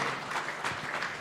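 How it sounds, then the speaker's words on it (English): A symposium audience applauds in a short burst of dense, steady clapping, moderately loud throughout the brief moment. "give him a big round of applause"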